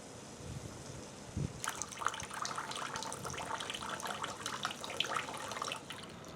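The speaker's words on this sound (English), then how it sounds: "Check out this super crude method of regulating my water flow." Water from a rubber hose fed by a water pump pours steadily, a soft trickle at first that turns abruptly into a louder, continuous splashing rush, close by and alone.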